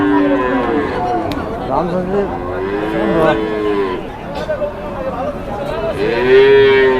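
Cows moo loudly and repeatedly at a busy cattle market. Several long, close lowing calls overlap, with crowd chatter and voices in the background.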